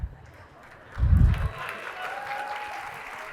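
Audience applause in a conference hall during an emerging tech trend talk at SXSW 2023. A low thumping swell builds and then settles into a soft, scattered patter under room noise.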